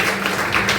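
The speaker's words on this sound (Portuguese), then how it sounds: "Dê uma salva de palmas para Jesus" A church congregation applauds for Jesus during a service, producing a brief, dense wash of clapping that fills the room.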